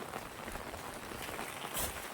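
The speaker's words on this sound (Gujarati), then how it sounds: "કેવો વરસાદ છે બે દિવસથી તો કન્ટિન્યુ ચાલુ જ છે" Steady soft hiss of rain falling, a continuous wash of drops without voices.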